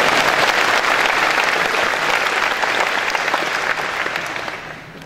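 A rally audience at a Liberal Democrat event on voting reform claps in sustained, dense applause that stays loud before gradually thinning and fading toward the end.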